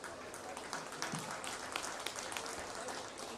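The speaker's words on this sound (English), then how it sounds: "Let's go and give these young ladies a round of applause." Scattered, fairly faint clapping from spectators around a county fair goat show ring, honoring young exhibitors, with a few sharper individual claps standing out over a thin background.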